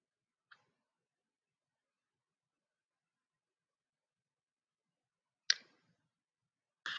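Three sparse, crisp computer mouse clicks in near silence during editing in Descript, one early and two close together near the end.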